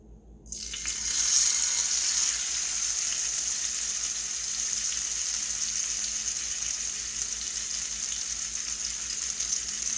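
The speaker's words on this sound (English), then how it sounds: "I'm just going to brown them on each side." Oxtails for crockpot jerk oxtails hit a hot pan and burst into a loud, steady sizzle that holds evenly for several seconds without pause.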